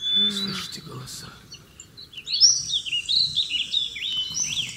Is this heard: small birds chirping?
yes